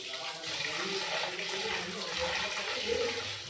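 Tap water runs steadily while soaked millet is rinsed in a kitchen, a continuous close splashing wash with no talking over it.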